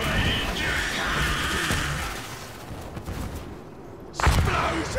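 Rocket blasts in the strategy game Dawn of War III during a tank-busting assault: a chaotic stream of crashing explosions and gunfire under shouted voices, with a sharp loud bang near the end.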